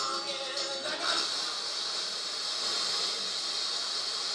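A vintage Pioneer Fluoroscan SX-3900 stereo receiver tuned between FM stations gives a steady, even broadband hiss of static, fairly loud and unbroken for several seconds, with no voices.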